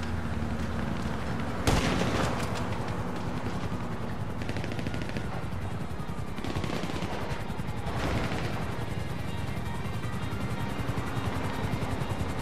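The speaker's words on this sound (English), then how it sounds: "A helicopter has been dispatched." A helicopter flies overhead with a steady, rapid rotor chop throughout, loud and continuous, with a sharp bang early on and a few heavier thuds mixed in.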